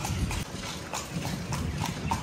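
Horse hooves clip-clop steadily on a town street at night in Thailand as the animal pulls a carriage, a regular close rhythm of hoof strikes over low road and ambient noise.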